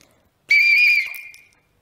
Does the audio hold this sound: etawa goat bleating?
no